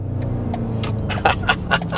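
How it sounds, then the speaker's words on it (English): A 2025 BMW X6 with its V8 engine in sport mode, a deep steady rumble close by, overlaid with sharp bursts and pops that grow louder toward the end. "You don't even have to be driving fast to just get that intoxicating V8 sound."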